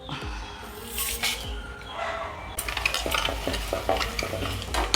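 Mustard seeds and spices crackle and fry in hot sesame oil in a pan while preparing Pallipalayam chicken, with steady close sizzling and a few spoon stirs and clinks, rising busier toward the end.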